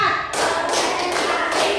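A class of pupils claps together in a counted clapping routine, a loud burst of many hands followed by a few further pulses of claps in quick succession.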